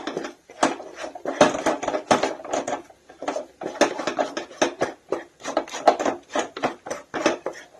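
Peanut paste being stirred and roasted in a steel kadhai, a spoon scraping and knocking against the metal in a steady, irregular rhythm of sharp close strokes with no talk.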